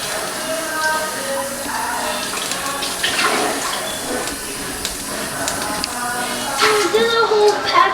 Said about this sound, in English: wash the cup now